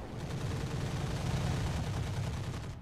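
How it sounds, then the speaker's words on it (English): Sustained machine gun fire in the mech combat game Roguetech, a dense, steady roar of rapid shots holding at high volume throughout, with no voices over it. "Comes those machine guns."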